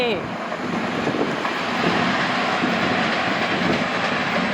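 A fast train rushes past on a Thai railway line, a loud, close, continuous roar of wheels and rushing air with wind buffeting the microphone throughout.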